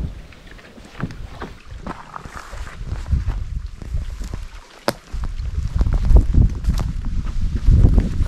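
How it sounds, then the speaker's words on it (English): A solo canoe is paddled across a windy lake in Algonquin Park, North Tea Lake area, with close rhythmic paddle strokes and water splashes over a wind rumble that grows stronger. "Back into the canoe, and I paddled back to the first campsite, heading into the wind."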